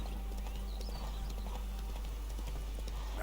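Roach the horse's hooves clip-clop steadily in The Witcher 3, a soft rhythmic trot over a constant low game hum, fairly faint with no talk.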